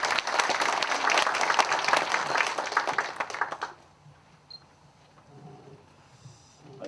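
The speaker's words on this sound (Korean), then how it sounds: "큰 박수로 환영해 주십시오." An audience at a university forum gives warm applause to welcome a speaker, dense clapping for about four seconds before it stops abruptly, leaving a quiet room with faint murmurs.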